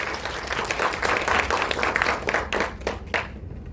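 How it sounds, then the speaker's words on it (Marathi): A seminar audience applauds at the close of a real-estate accounting session, a loud, dense wash of clapping that holds steady before thinning out and fading in the last second. "सरांसाठी एकदा जोरदार टाळ्या वाजवा"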